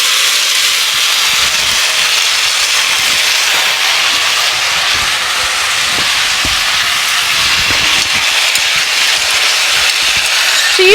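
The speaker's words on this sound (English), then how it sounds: "So you do a little bit of sauteing." Pineapple sautéing with ginger and dried red chili in a pan for a Bengali sweet-tart chutney, giving a steady, close hiss and sizzle that holds evenly throughout with no talking.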